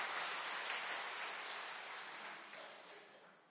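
A church seminar audience claps steadily in a dense, broad wash of applause that slowly fades toward the end, with no talking over it.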